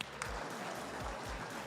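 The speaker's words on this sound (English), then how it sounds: "Let's clap it up for all of the winners" Faint applause from an audience clapping for the winners at a state championship raffle and awards, a steady patter of many hands with a few low thumps, heard at a distance.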